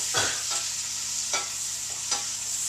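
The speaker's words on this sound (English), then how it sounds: "You want to get oil all over that cabbage." Shredded cabbage stir-fried in oil and bacon grease in a pan, a continuous close sizzle broken by a few sharp scraping and tossing strokes of a utensil.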